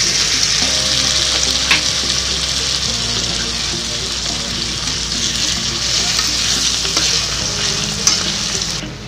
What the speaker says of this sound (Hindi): अब हम इसमें डालने जा रहे हैं टमाटर जो हमने कट किए थे।